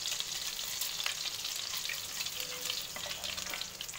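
Whole cumin and black pepper frying in a spoonful of butter with a little oil, a steady close sizzle with faint crackles and pops throughout, no talking.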